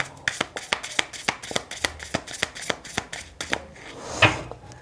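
Tarot cards are shuffled by hand in quick, regular riffling taps, close and crisp, with a brief louder rustle near the end.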